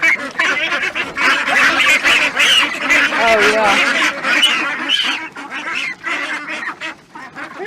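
Geese honk loudly and repeatedly up close, with duck-like quacking mixed in, while a person talks briefly among the birds.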